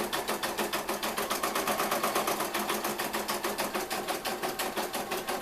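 A Brother embroidery machine stitches the first letter on fabric pulled tight in a hoop, giving a steady, fast mechanical rhythm of needle strokes, close and continuous with no talking.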